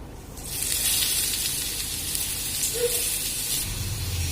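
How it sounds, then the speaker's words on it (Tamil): Carrot frying in ghee for a miniature carrot halwa, a steady soft sizzle and hiss that swells after a quiet start and continues evenly, with faint stirring. "நம்ம இதே நெய்ல கேரட்டை போட்டு வறுத்துடலாம்."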